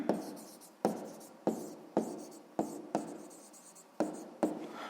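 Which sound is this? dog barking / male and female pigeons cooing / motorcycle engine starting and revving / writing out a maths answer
writing out a maths answer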